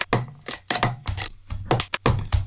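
Bitwig resonator bank effect sounding like a scraped wood block, with a series of sharp, hollow, knocking strikes in an uneven rhythm, each briefly ringing with a low resonant tail, close and loud.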